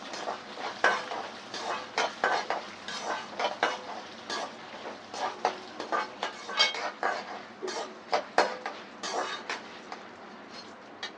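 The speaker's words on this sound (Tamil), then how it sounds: "எண்ணெயில் வந்து கடலைப்பருப்பு, உளுத்தம்பருப்புலாம் நல்லா ஃப்ரை ஆகணும்." Chana dal and urad dal fry in oil for uppu urundai, a soft sizzle running beneath repeated sharp clatters of a spatula scraping and knocking against the pan in an uneven stirring rhythm, close by and without speech.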